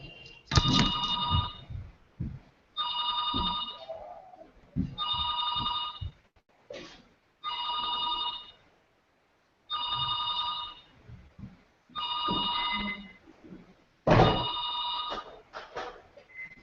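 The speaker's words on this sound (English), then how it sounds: "If I would not take that landline, then it would constantly keep ringing." A landline telephone rings in repeated double bursts, loud and close, with short silent gaps between rings and faint room noise underneath.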